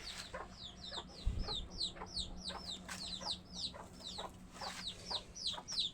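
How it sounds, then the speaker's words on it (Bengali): Two broody hens settling to sit on eggs make repeated soft clucking calls, with a steady run of chirps and clucks across the whole stretch and a low background hum. "অবশেষে মুরগি 2টাই কুচে বসছে।"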